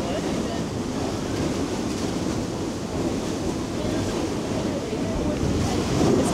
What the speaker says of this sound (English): Look at these waves. They're pretty large.